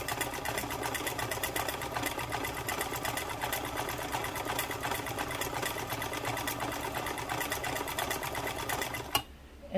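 A 1949 Montgomery Ward UHT J sewing machine runs steadily through a stretch stitch, a fast even whirring needle rhythm close up for about nine seconds before stopping with a small clunk.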